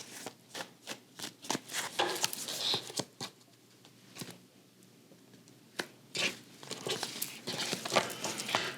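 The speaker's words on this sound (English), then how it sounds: "I've already been shuffling off camera quite some time." A deck of tarot cards is shuffled up close, giving soft irregular riffling and pattering bursts that come and go, with quieter stretches between them and no talking.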